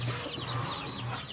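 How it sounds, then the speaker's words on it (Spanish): Chickens, fluffy feathered hens kept in boxes at a home, clucking softly and intermittently in low repeated calls, faint and somewhat distant against a steady background hum, with no talking. "allá tengo mis gallinas otras, las mías poludas"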